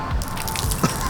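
Water pours out of a Chevy Silverado headlight in a brief, close splash of dripping and spattering liquid, with a small wet gush near the end.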